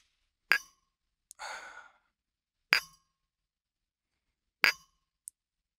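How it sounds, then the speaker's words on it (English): Two glass light bulbs are clinked together three times in sharp, bright, close taps spaced about two seconds apart, with a soft breathy rustle between the first two and a tiny tick at the end, in a quiet room. "Now to clink them together"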